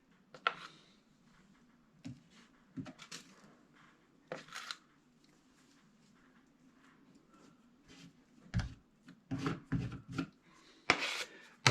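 Drywall compound being spread into a crack in drywall with a knife: scattered soft scraping and smearing strokes, quiet at first and growing denser and louder toward the end, with a low hum underneath.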